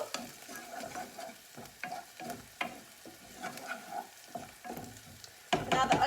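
Browned onions sizzle in a pan for vegetable enchiladas while a utensil scrapes and stirs them in repeated strokes, ending in a louder burst of frying and clatter.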